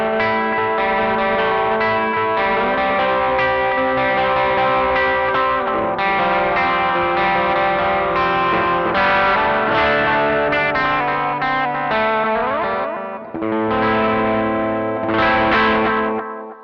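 A clean electric guitar runs through a Caline CP80 Ragnarok analog-style delay and reverb pedal, a flowing picked passage whose notes smear into soft, darkening echo trails, with a brief pause near the end before playing resumes.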